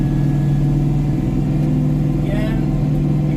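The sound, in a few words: tractor engine revving up to PTO speed for flail mower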